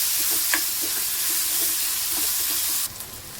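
Potatoes sizzle steadily in hot oil in a pan for a Maharashtrian brinjal-potato dish, while a spoon stirs them now and then with soft scraping clicks. The sound is continuous and fairly close, with no talking.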